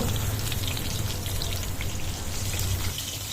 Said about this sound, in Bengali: তেলটা ভালো করে গরম হলে পটলগুলো দিয়ে দেব দিয়ে আমি এপাশ ওপাশ করে একটু লাল করে এটাকে আমি ভেজে নেব